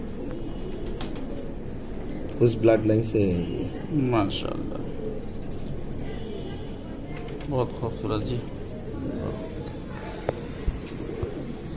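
A white duck teddy pigeon from Mian Nazir's bloodline in Khulna, Bangladesh, coos softly beneath nearly constant talk from men close by.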